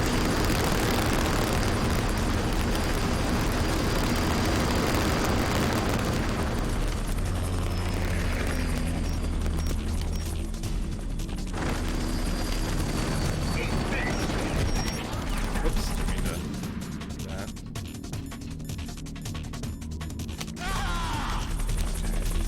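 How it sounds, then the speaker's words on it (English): Helicopter boss fight in the video game Metal Gear Solid: The Twin Snakes, with dense rotor and engine roar, crashes, booms and mechanical effects throughout, while a player talks over the action. "Why am I fighting a helicopter?"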